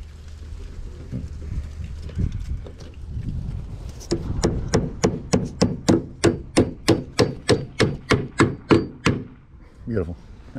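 A hammer drives nails into mobile home siding: after a few scattered taps, a rapid, evenly spaced run of about fifteen loud, close strikes follows, then one last hit after a short pause.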